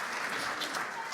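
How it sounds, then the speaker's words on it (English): A brief burst of audience clapping for three people leaving the stage, a steady wash of claps at moderate level. "Can you guys give these three a big clap as they head on down?"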